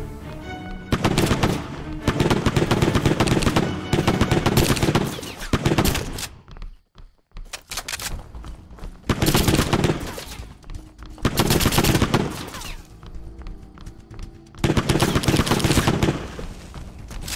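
Rapid machine-gun fire mows down zombies in the video game Hentai VS Evil, coming in several loud sustained bursts separated by short quiet gaps, alone without talk.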